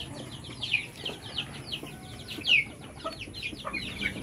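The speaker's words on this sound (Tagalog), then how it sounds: "So ito yung mga sisiw natin." Chicks on a backyard farm give scattered high, thin peeps and chirps through a low, steady background, with one sharper chirp standing out near the middle.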